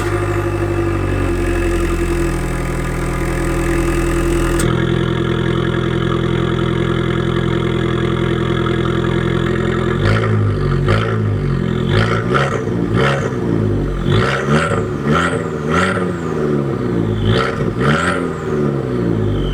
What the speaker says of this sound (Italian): per sentire come canta il motore con gli scarichi Record Monza e soprattutto come funzionano le valvole che li aprono e li